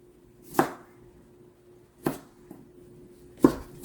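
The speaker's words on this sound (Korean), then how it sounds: "무가 이렇게 맛있게 다 절여져서 먹기 편리하게 자르도록 하겠습니다." Salted ponytail radish for kimchi is cut on a board in three separate, sharp knife chops spaced over a second apart, close and clear against near silence, with a faint extra tap between two of them.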